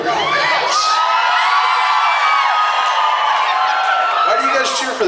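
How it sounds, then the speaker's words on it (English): A packed live concert crowd at the Whiskey Roadhouse roars with cheers, whoops and shouts, loud and sustained for the whole stretch with no let-up. "Why do you guys cheer for that stuff?"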